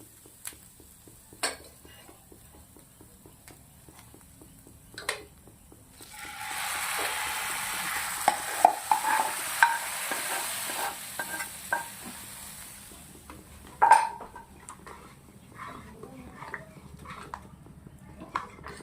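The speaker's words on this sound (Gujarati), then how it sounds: "દાળનું કુકર પાછું આવી ગયું છે અંદર મસાલો નાખી દઈશું" Masala is added to cooked dal in a pressure cooker, with occasional spoon taps, then a loud hissing sizzle as the spice mixture hits, followed by scattered clinks and stirring scrapes.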